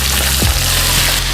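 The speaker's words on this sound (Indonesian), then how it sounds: "Kita mau tumis dulu bawang merah." Shallots and lime leaves sizzle in hot reused frying oil, a loud, dense, steady crackling hiss close to the mic, with a faint knock partway through.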